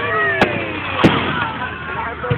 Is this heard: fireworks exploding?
yes